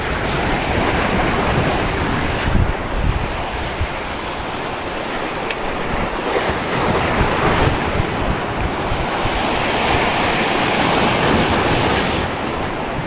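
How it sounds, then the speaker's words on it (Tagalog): Strong ocean waves crash against a breakwater in Abu Dhabi in bad weather, a loud continuous roar of surf with heavy wind buffeting the microphone and repeated surges. "Malakas ang alon."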